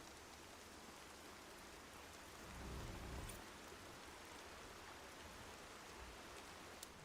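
Steady rain hisses through a stormy scene in the video game Horizon Zero Dawn, a quiet continuous wash with a short low thunder rumble partway through, and no voices over it.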